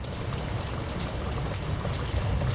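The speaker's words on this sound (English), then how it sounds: "So this rain right here is going to really help soak that food in for them" Steady rain pours down during an August monsoon storm in the Arizona desert, a dense even hiss of falling water close by with no voices.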